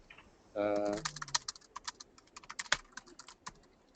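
Quick, light keystrokes clatter on a computer keyboard as a headline is entered, with a brief tonal sound at the start and then irregular taps close by.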